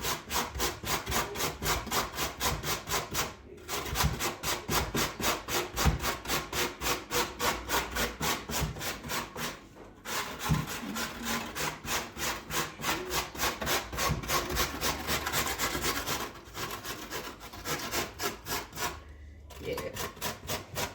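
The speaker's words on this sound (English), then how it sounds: "The first thing you need to do is to grate your potatoes using a grater." Raw potatoes rubbed against a metal box grater in a home kitchen, a steady rapid rasping stroke after stroke with brief pauses to reposition, close and continuous with no talking.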